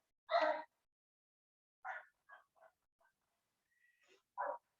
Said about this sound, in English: Ignoring my dogs.